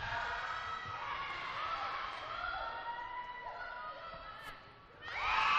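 Crowd noise swells steadily at a netball league match between North Shore United and Sutherland Stingrays, a dense, sustained roar of cheering and shouting voices with sharp whistling tones rising near the end.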